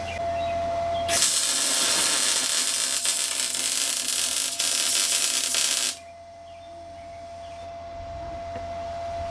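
A welder tack-welds 4-link bars on an F100 in a shop, a loud continuous hiss and crackle lasting about five seconds before cutting off abruptly, with a steady hum running underneath throughout.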